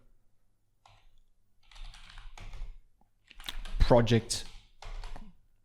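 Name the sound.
typing on a computer keyboard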